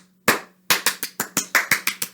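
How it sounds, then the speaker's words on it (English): Children clapping their hands at preschool storytime, a group making about a dozen sharp claps in an uneven, quickening rhythm, close and loud. "And you clap to frighten that cat away."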